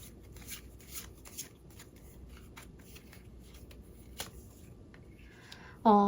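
Tarot cards being shuffled in a fortune-reading session, a soft continuous riffling and shuffling close by under quiet background, with a few light taps and a brief voice at the very end.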